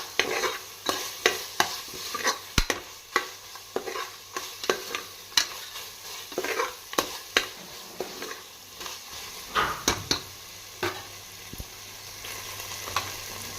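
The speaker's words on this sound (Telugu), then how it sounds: "ఈ ఆయిల్లోనే ఇది బాగా ఫ్రై చేసుకోవాలా." Mutton curry ingredients fry in two tablespoons of oil for a Nellore-style dish, with a soft background sizzle punctuated by rhythmic scrapes and clinks of a ladle stirring the pan, close and repeated throughout.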